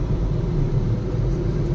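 A car rolls slowly across the long bridge over the Mandovi river at Panjim, Goa, giving a steady, close low rumble of engine and road noise with no voices.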